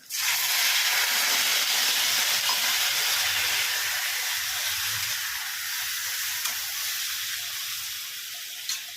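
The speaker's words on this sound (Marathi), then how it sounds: "त्यामध्ये थोडंसं पाणी टाकून घेणार आहोत आपण" Steady loud sizzling hiss as water is added to a hot frying pan, continuous throughout with faint stirring clinks, no voices.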